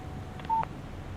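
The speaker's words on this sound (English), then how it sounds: "Text message from Barry." A short electronic phone text message alert in the Alan Wake video game, a brief tone of a few chirps and one steady beep, faint over a low background hum.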